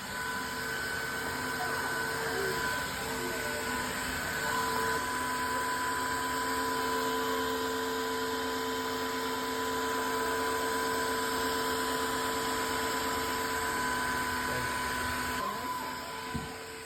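A Tineco iFloor 3 Breeze cordless floor vacuum and washer runs with a steady motor hum and high whine, constant and close throughout, with faint talk underneath.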